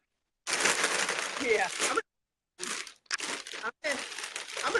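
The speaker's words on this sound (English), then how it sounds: "Is that candy I hear rustling in the background?" A candy wrapper crinkles in close, loud bursts separated by short silences, with a voice briefly heard alongside.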